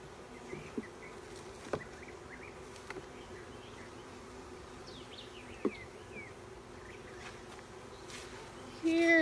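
Honey bees work frames in a nuc box, a faint steady buzzing hum with a few soft clicks and handling taps, ending in a brief louder rustle.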